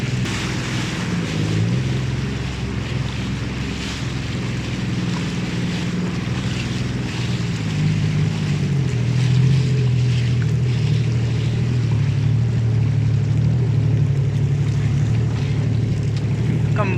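Mistral windsurfers sailing downwind alongside 470 and Laser Standard sailboats in a combined fleet, heard as steady loud wind and water rush with a constant low motor drone throughout.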